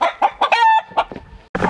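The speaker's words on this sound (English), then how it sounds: "Excuse me, the rooster's being kind of noisy." A rooster crows loudly and close by on a small homestead, a series of sharp harmonic calls with a sustained high note, followed by a burst of broadband noise at the end.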